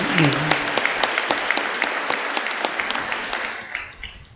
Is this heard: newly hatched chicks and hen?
no